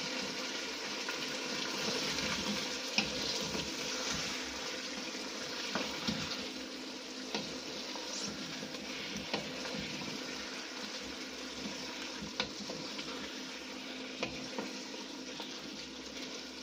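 Cut potatoes sizzle in a pan of chicken curry: a steady, close frying hiss with scattered small crackles and pops, and no talking.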